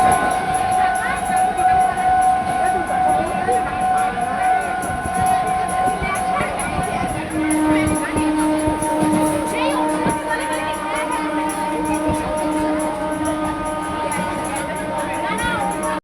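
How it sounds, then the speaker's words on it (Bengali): A train pulls out of a railway station, its steady rumble and hum heard close by through the clip alongside crowd babble on the platform, while a person talks over it. "তো দাঁড়াও, তার আগে স্টেশন থেকে ট্রেনটা চলে যাক"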